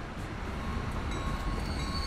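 A train rolls along in the Transport Fever simulation game, a CSX locomotive on a Great Lakes route, giving a steady continuous rumble of wheels and running gear, fairly loud and unbroken with no voice over it.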